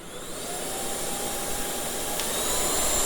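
A cordless stick vacuum from BİM, Heifer brand, runs at a steady high whine with an airy rush, constant and close throughout, nearing the end of its battery charge, no voices.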